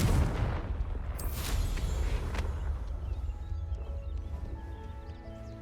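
A Confringo fire spell explodes in Hogwarts Legacy, a heavy boom up front trailing into a rumbling, crackling tail that slowly fades over several seconds.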